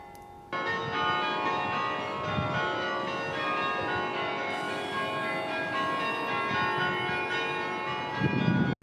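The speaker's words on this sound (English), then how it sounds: "the church bells start ringing" Church bells ring continuously with layered sustained tones, a loud clang joining partway through, fairly distant and steady without voices.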